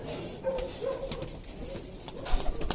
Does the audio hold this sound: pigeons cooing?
yes